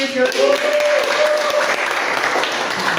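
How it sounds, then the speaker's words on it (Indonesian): Loud, dense applause from a training-session audience greeting Pak Firly, filling the room steadily, with a voice briefly audible under the clapping near the start. "tepuk tangan untuk Pak Firly."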